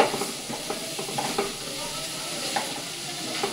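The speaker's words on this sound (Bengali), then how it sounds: "একবারে চালটা দিয়ে আমি একবারে কষিয়ে নিই" Rice tossed with ginger paste in a hot pan, a steady bright sizzle with scattered scraping stir strokes and spoon knocks, close and fairly loud, no voices.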